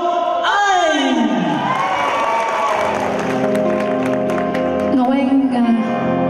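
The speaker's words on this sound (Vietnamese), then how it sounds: "xin tất cả quý vị dành một tràng pháo tay thật lớn để chúng ta chào đón nữ ca sĩ Ngọc Anh" An audience at a spring fundraiser event claps and cheers to welcome a female singer, with whoops and shouts mixed into loud, sustained applause while music swells beneath and a voice carries over the crowd.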